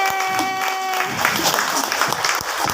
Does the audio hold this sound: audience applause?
yes